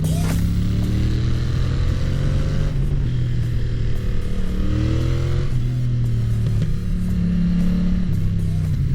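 A Yamaha Tracer 7 motorcycle with an aftermarket exhaust runs close by, a loud, deep, continuous engine rumble that rises and falls with revs, no talking.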